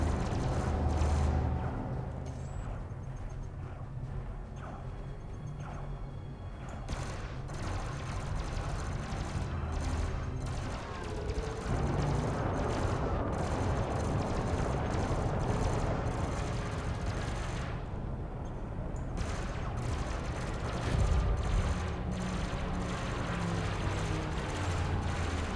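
Spaceship cannons fire repeatedly during combat in the space game Elite Dangerous, a steady barrage of blasts and rumbling impacts running throughout with bursts of explosion-like noise.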